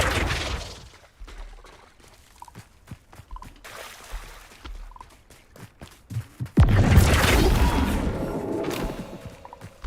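A Flipendo spell is cast in Hogwarts Legacy, with a series of sharp whooshing thuds and impacts followed by a loud sustained crash and rumble, close and forceful, with no speech.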